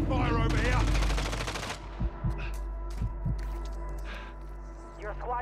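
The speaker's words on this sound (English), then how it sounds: "Taking fire over here" Rapid automatic gunfire in a battle royale video game match, a dense burst up front followed by scattered single shots and distant thumps, with a voice speaking over the action.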